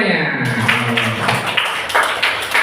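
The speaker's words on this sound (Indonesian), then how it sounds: "Tepuk tangan semuanya." Children in a fifth-grade classroom clapping together in a loose, rhythmic patter of hand claps, fairly loud and close, with a voice speaking briefly at the start over the noise of the room.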